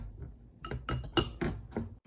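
Metal cookware clinks and knocks a few times while eggs are being prepared for an omelette in a single-serving frying pan, a handful of sharp close taps spread over about two seconds.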